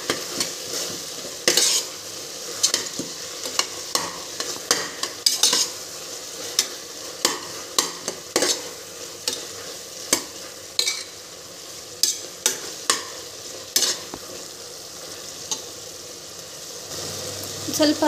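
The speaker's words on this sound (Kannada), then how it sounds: "ಸ್ವಲ್ಪ ಎಣ್ಣೆ ಬಿಟ್ಕೊಳ್ಳೋವರೆಗೂ ಒಂದು ಸ್ವಲ್ಪ ಫ್ರೈ ಮಾಡಬೇಕು" Tomato bath masala with mint leaves being stirred and fried in oil in a pan, giving repeated scraping strokes over a soft, steady sizzle, close and moderately loud.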